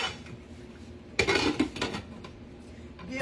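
A lid is set back onto a crockpot in a kitchen, giving a short, close clatter of ceramic and metal followed by a couple of lighter knocks, then quiet room tone.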